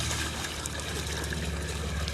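Water splashing and trickling as paint buckets are rinsed out during a garage door painting job, a steady close wash of running liquid throughout with no voices.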